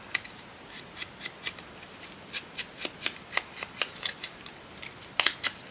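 Scissors snip paper scraps repeatedly, shaping a small tuck for a handmade journal, with crisp evenly spaced cuts close to the mic and nothing else audible.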